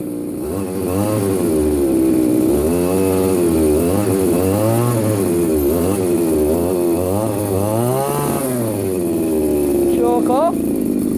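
A small two-stroke engine, freshly repaired pull cord and coil gap set, runs after a pull start, loud and close with a buzzy, wavering idle that rises and falls as it is revved, while people talk over it.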